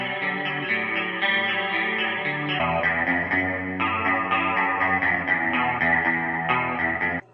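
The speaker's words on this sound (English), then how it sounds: "Next guitar effect on our list, chorus." Electric guitar played through a chorus effect pedal, shimmering and slightly doubled, with sustained chords and melodic lines shifting in pitch, loud and close with no talking.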